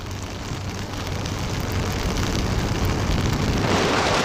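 Heavy monsoon rain during a motorcycle ride in the Konkan region, a dense steady roar of rain and road noise that builds slightly and stays loud throughout, with no talking.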